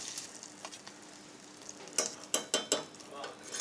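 Browning butter foams and sizzles in a pan, making a steady close hiss with a few sharper crackling pops near the end.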